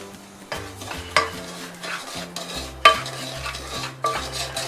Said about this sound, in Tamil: இப்போ இதே நெய்யில் நான் வந்து 1 கப் அளவுக்கு ரவை எடுத்து வச்சுருக்கேன், அதை நம்ம வறுத்துக்கலாம்.